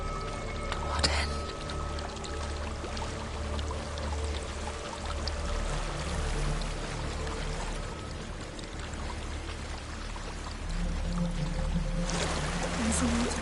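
A waterfall in Hellblade: Senua's Sacrifice pours and rushes continuously, with watery splashing and a low rumble. Soft voices and eerie ambience sit over the steady flow.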